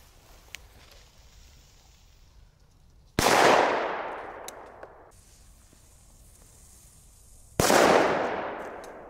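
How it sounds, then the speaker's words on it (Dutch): Two separate firecracker blasts several seconds apart, each a sudden loud bang with a decaying noisy tail, against faint outdoor background between them; powerful consumer fireworks from a Belgian pyro shop. "Ja, die knallers die stellen niet teleur"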